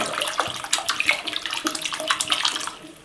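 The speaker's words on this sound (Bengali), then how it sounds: "এতে আমি জল দিয়ে দিলাম।" Water pours into a pan of fried vegetables for Maggi noodles with a steady splashing gush, close and fairly loud, for about three seconds before tapering off.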